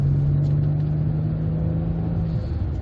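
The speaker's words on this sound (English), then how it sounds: "Let's have some more V6 action as we go along here." The 3.0 V6 engine of a 1998 Peugeot 406 with a manual gearbox drones steadily while driving, a loud, even low hum with a constant tone that drops slightly near the end as the revs ease.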